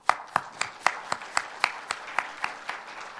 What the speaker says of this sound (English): I ask you now to adopt the declaration with applause